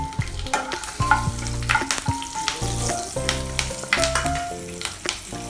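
Whole cumin seeds and two slit green chillies crackle and sizzle in hot oil for a Bengali prawn malai curry, a steady close frying hiss with sharp pops beneath a tonal musical bed.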